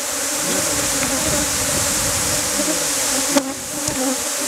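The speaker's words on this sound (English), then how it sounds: "how bees are collecting here in a circle down here." Honey bees swarm and buzz beneath a hive fitted with a venom collector, a dense continuous drone close by with a faint voice briefly heard.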